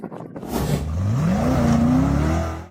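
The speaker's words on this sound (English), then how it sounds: "The white SUV floored the accelerator and sped across the sandy terrain, attempting to climb a steep sand dune." A white 4x4 SUV floors it on sandy terrain while trying to climb a steep sand dune, its engine revving loud and close with pitch climbing steadily before holding high, no voices.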